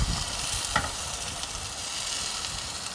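Tofu hits hot oil in a pan on a makeshift stove inside a car, a soft steady sizzle with one brief crackling pop near the start and no talking.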